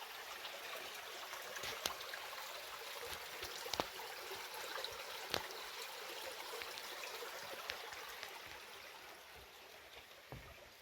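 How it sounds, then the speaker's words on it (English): Soap Creek in Oregon runs somewhere below a trail, its flowing water a faint, steady hiss with soft trickling, heard alone with a few light clicks. "I can hear water down here."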